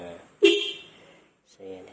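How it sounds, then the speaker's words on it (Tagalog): A single short horn honk from a Raider J115 Fi motorcycle sounds out sharply, set between brief stretches of someone speaking before and after it. "Busina."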